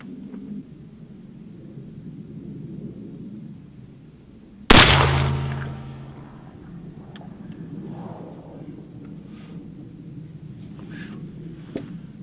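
A single sharp muzzleloader rifle shot cracks out at the range during sighting in, its loud boom rolling and echoing off for a couple of seconds before fading back into quiet outdoor ambience.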